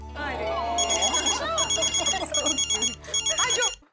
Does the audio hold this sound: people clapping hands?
no